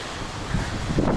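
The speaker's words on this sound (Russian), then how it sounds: "Но, ребята, шторм." Stormy winter sea on the Feodosia embankment in Crimea during a snowstorm, with heavy wind buffeting the microphone and surf rumbling beneath, a constant loud roar with gusty swells.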